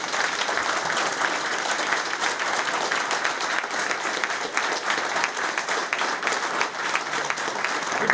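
Applause at an award ceremony, a dense, sustained roar of many hands clapping continuously for the full length, loud and even with no pause or talking.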